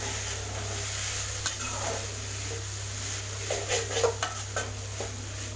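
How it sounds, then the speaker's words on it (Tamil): Grated coconut being stirred into beetroot poriyal in a pan, giving soft scraping and clinking of a spoon against the pan, with a few sharper taps toward the end over a steady low hum. "தேங்காய் துருவல் போட்டு நல்லா கிளறி விட்டுடலாம்"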